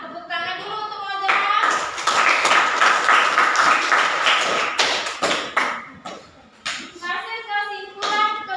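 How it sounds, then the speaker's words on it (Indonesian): A classroom of students claps for a classmate, a burst of loud, close applause lasting several seconds, with a teacher's voice and children's voices before and after. "Tepuk tangan dulu untuk Moza."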